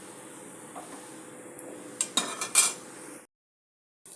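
Roasted ingredients being scooped out of a frying pan of oil with a metal spoon during Tamil home cooking of coconut rice and puliyodharai, a few close clinks and scrapes of utensil on pan over a faint sizzle, then silence.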